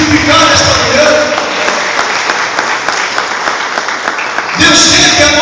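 Worshippers in a church congregation break into sustained applause, a dense patter of many hands that fills the middle of the stretch between louder passages of voice and sound at either end.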